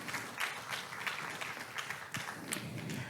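An audience at a Korean research and administration awards ceremony applauds a prize winner, a moderate, uneven patter of clapping with scattered sharper claps.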